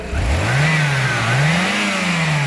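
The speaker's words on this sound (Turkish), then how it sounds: "Bir de öyle bir gaz verelim" Car engine revving hard after an ignition repair, one loud sustained rev whose pitch rises, dips and climbs again over a steady roar, close by with no talk.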